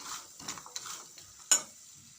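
A spoon stirs cumin and ajwain powder into harira in a pot, making quiet scraping swirls followed by one sharp clink against the metal.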